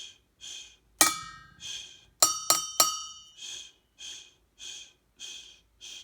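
A cup struck to tap out a counted rhythm: a bright glassy clink, then three quick clinks, set between soft, evenly paced breaths or snorts, close and fairly quiet.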